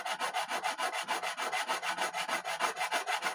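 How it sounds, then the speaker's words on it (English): File leveling and crowning guitar frets, a brisk rhythmic rasp of about six scraping strokes per second, close and steady with no voices. "Now we are crowning and we are filing or leveling at the same"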